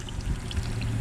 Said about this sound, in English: That thing is kicking some water right out of there.